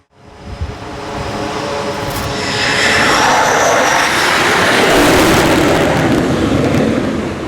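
A military jet approaches to land on the USS Nimitz aircraft carrier, its roar swelling from faint to a loud, sustained whine and rush overhead.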